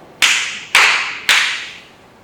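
Three sharp, close hand claps, evenly spaced about half a second apart, each with a short ringing tail in a quiet room.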